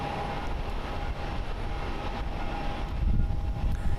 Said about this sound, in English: There goes Lufthansa. Absolutely an amazing departure.